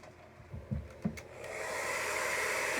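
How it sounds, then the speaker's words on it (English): A hair dryer blows steadily to dry a painted flower artwork made from leftover scrap paint, starting after a few soft handling knocks and rising to a constant close whoosh. "And now we're gonna dry this."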